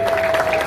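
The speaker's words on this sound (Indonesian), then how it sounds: "Tepuk tangan." Brief burst of dense audience applause at a village leaders' gathering in Legonkulon district, a steady tone running through it.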